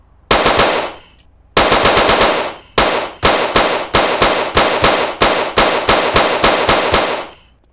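Loud automatic gunfire in the GTA MTA roleplay video game, several long rapid bursts of close shots separated by brief pauses, then a steady run of repeated volleys.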